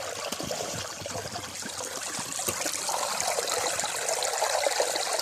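Creek water trickles and burbles steadily at close range and grows slightly louder toward the end, with no voices.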